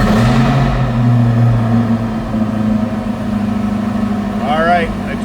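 A supercharged 2020 Chevrolet Corvette Coupe engine idles with a deep, steady rumble and a throaty bark, while someone talks over it close by.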